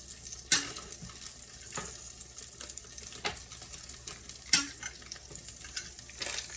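Egg frying in a hot cast iron pan, a steady close sizzle with soft crackles and a few sharp clicks and scrapes from stirring or utensil contact, no talking.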